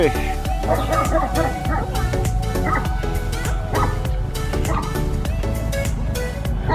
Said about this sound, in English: That's a German Shepherd in there barking.